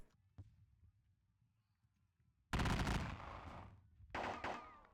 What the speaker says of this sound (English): Let's just shoot them then.